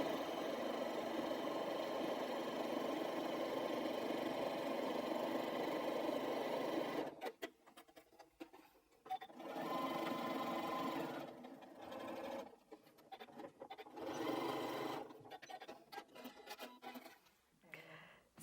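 Sewing machine stitching quilt binding hums in a continuous close run for about seven seconds, then starts and stops in several short bursts.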